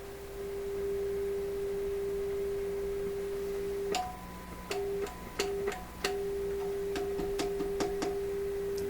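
A steady pure electronic tone from a Pye 39HC shortwave broadcast receiver's internal modulation hums over background static, then breaks into choppy interrupted beeps with sharp clicks as the signal is switched.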